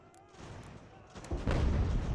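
Mortar fire on an American Revolution battlefield in Ultimate General, a muffled low boom swelling into a heavier rumbling blast near the end, with faint battle ambience beforehand.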